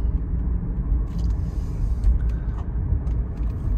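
A 2012 Toyota Prius rolls into a middle school driveway, its cabin filled with a steady low road rumble and tire noise, with a few faint light clicks and rattles above it and no talking.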